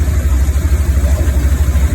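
A marine engine fitted with a Holley carburetor runs unevenly, its steady, loud low rumble pulsing in an uneven rhythm at close range with no voices.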